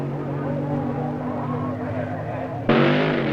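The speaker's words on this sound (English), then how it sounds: "The AA gas dragsters are next on the line" AA gas dragsters at the 1964 NHRA Nationals drag strip give a sustained engine roar that rises sharply near the end as a car launches, heard from a distance with a loud crowd-filled ambience.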